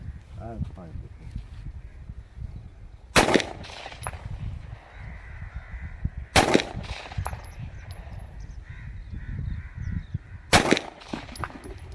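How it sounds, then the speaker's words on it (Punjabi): Zigana FX9 pistol test fired outdoors, three sharp loud reports spaced a few seconds apart, with someone talking throughout between shots. "ਇਹ ਪਿਸਟਲ ਦੇ ਅਸੀਂ ਤੁਹਾਨੂੰ ਟੈਸਟ ਫਾਇਰ ਕਰਕੇ ਦਿਖਾਵਾਂਗੇ।"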